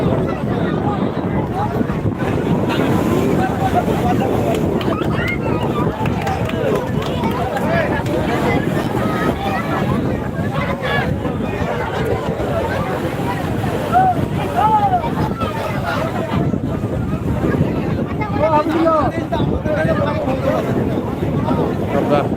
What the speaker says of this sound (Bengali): সরাসরি দেখলেন নিউ দিঘার সৈকতের জোয়ারের মুহূর্ত